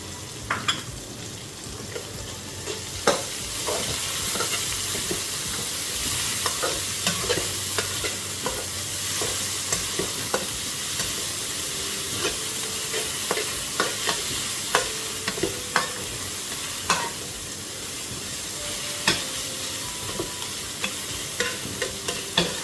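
Four chopped onions frying in a pan for a Bengali lentil-and-vegetable dish, a steady close sizzle broken by frequent scraping clicks and knocks as a spatula stirs them throughout.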